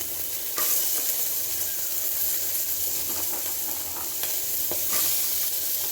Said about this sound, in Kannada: ಈಗ ಅವರೆಕಾಳನ್ನ ಹಾಕೋಬಿಡೋಣ.